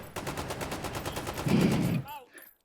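An FN SCAR rifle in the VR shooter H3VR fires from the hip in one rapid automatic burst of about two seconds, loud and close, then a few metallic clicks and rattles as it stops.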